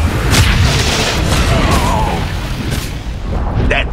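A tower blows up in Dota 2, producing a loud, rumbling explosion that holds steady over a few seconds and then trails off, with no talking.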